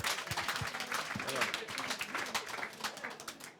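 An audience at an awards ceremony gives a spell of scattered, moderately quiet applause, individual claps standing out within the ragged patter.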